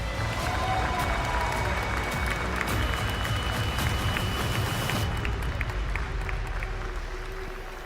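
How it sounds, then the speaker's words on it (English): Audience applause at the EWC 2026 chess tournament as a player leaves the stage. The clapping is dense and steady for about five seconds, then thins and fades toward the end. "please can I have a round of applause for Hikaru Nakamura?"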